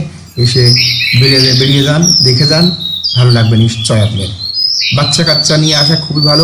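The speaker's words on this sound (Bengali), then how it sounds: "এই গাছপালার মধ্যে বেশ পাখির ডাক শুনবেন।" Birds chirp and call from trees along the Shitalakshya river near Kanchpur, with repeated high twittering running steadily beneath a man's close, continuous talk.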